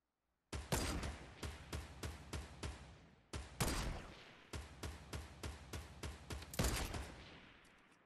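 Bursts of video game gunfire crack out in rapid volleys, loud and close, with short pauses between clusters of shots and a dense roll of fire near the end.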